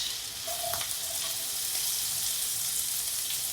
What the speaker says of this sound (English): I always like to saute the onions first and add the garlic afterward because I hate burnt garlic